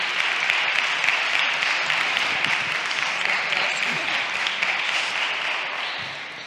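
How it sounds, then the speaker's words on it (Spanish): A conference audience breaks into sustained applause, a dense wash of clapping that holds steady and tapers slightly at the end. "Pues le damos un fuerte aplauso."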